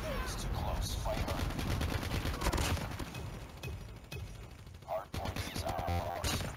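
Dense, continuous gunfire in a Call of Duty: Mobile Hardpoint match on the Shipment 1944 map, rapid automatic bursts and impacts filling the whole stretch with hardly a pause.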